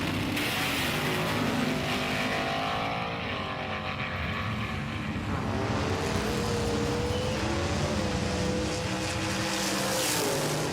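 Racing cars roar off the start gate in a motorsport battle event, a loud continuous engine drone with rising and shifting pitch sweeps as they accelerate, steady throughout.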